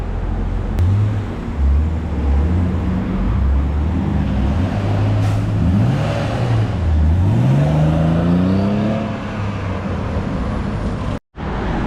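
A BMW E36 Compact on a road test, its engine revving up and down through several gear changes with steady road rumble, close and continuous.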